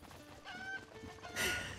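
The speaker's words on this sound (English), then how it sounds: "Yeah! I have a chicken!" A chicken clucks in a video game, a few short pitched clucks followed by a louder squawk near the end, with no talk.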